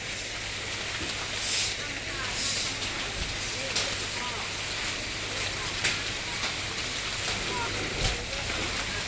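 Heavy rain pours down in a steady, dense hiss that stays constant throughout, with a few faint knocks and voices in the background.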